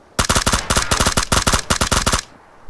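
In the PUBG video game, rapid automatic gunfire rattles out in loud, close bursts of evenly spaced shots for about two seconds before stopping abruptly.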